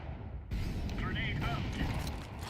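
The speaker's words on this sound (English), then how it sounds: "Flashbang." A flashbang grenade goes off in Counter-Strike 2: a sudden broad burst that hangs as a loud, sustained wash of noise, with a brief voice faintly underneath.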